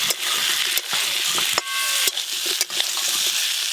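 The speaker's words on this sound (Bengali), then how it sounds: "পোস্তটা আলুর সঙ্গে ভালো করে একটু নাড়ার জন্য আর একটু তেল দেব" Potatoes and poppy seeds fry in hot mustard oil with a steady, dense sizzle, broken by several sharp scrapes and knocks of a spoon stirring the pan, close and loud with no talking.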